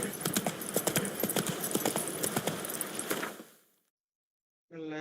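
Horse hooves clip-clop steadily at a brisk rhythm in The Witcher 3, loud and close for about three seconds before stopping abruptly into silence, followed by a brief tonal sound at the end.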